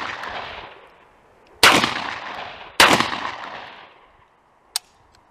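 A Panzer AR-12 gauge shotgun firing outdoors, two loud sharp blasts about a second apart, each trailing off in a long echoing decay, followed by a brief metallic click.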